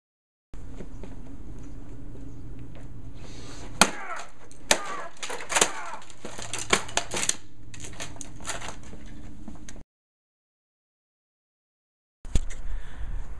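A guitar is smashed to pieces with a run of sharp, loud cracks and splintering wooden impacts over several seconds, then a pause and a last burst of clatter.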